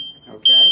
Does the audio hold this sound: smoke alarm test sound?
yes